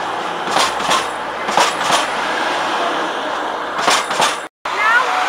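Class 222 passenger train arriving from St Pancras at Sheffield station: a loud, steady rolling roar with occasional clanks and clicks close by, and a voice briefly heard.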